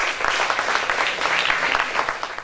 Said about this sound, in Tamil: வித் யுவர் பலத்த கரகோஷங்களுடன் இர்ஃபான் சார்.